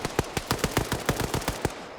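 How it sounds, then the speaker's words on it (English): Rapid automatic gunfire in a 120-player Arma PvP match between OFCRA and WOG, a fast rattling string of about a dozen sharp shots over two seconds, dense and fairly close with no talk. "Evading all of those gunshots as they do a quick reload."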